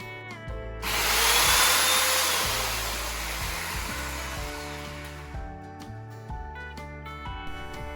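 The electric motor of an Einhell GC-EC-7520 pole pruner with a 20 cm chain bar spins up into a steady, loud whine and hum, then slowly fades and settles over several seconds.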